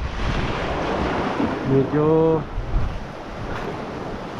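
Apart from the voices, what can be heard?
strong wind and small waves at sea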